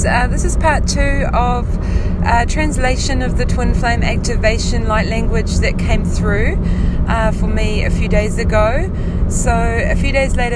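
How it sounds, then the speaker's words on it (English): Steady low road rumble from inside a moving car fills the background while someone speaks continuously over it. "I do apologize for the noise because I'm driving in my car."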